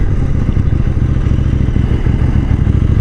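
A KTM 790 Duke motorcycle engine runs at steady throttle with a dense, rough, clattering low rumble, close and continuous throughout with no voices.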